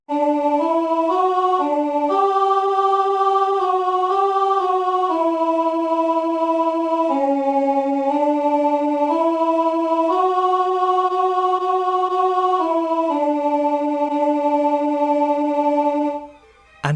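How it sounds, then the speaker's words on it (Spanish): A sustained, organ-like synthesized melody moves in slow, long held notes, each note stretched to double length, with smooth steps between pitches and a steady level throughout. No voices. "su melodía con cada una de las notas aumentadas al doble suena así"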